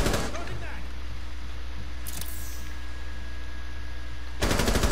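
Automatic gunfire in the tactical shooter Rainbow Six Siege rattles in sustained bursts through most of the span, with a louder burst near the end and game sounds layered over it.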